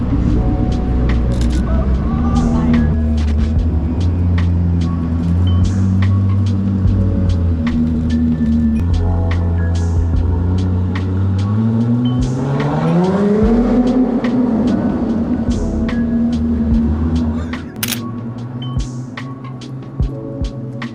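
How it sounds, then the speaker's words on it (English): A Koenigsegg Jesko Attack supercar drives past on a London street, its engine droning loudly and steadily before the pitch sweeps upward as it accelerates past, then the sound drops away over continuous traffic noise. "Oh, there's a Jesko coming. Look at that. Koenigsegg Jesko Attack."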